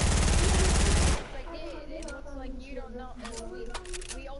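A sniper rifle no-scope shot in a video game cracks out loud at the start, a single blast with ringing tail, then fades under voices talking and game background sounds.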